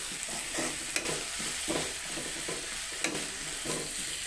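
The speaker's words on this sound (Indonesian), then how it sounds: "Tumis bumbu hingga matang supaya enggak langu." Ground spice paste sizzles in leftover oil from frying eggs while a utensil stirs it, giving a steady close hiss broken by rhythmic scraping strokes and a couple of sharper knocks.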